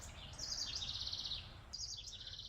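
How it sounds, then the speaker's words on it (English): Birds sing near a lime tree on a summer morning outdoors, with two bright, rapid chirping phrases over a soft low background rumble and no talking. "You can hear the birds."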